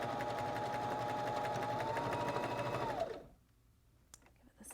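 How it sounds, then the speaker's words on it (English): Steady machine whir of a sewing machine stitching around the edge of stretched, flattened fabric, a continuous mid-loud run lasting about three seconds, then cutting off to near quiet with a few faint clicks. "we're just going to sew all the way around."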